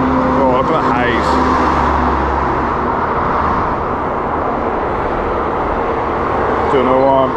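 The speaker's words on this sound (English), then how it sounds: "I need the traffic from the other side." Several cars pass close by in night traffic, their engine and tyre noise swelling and fading in steady overlapping sweeps, with voices audible underneath.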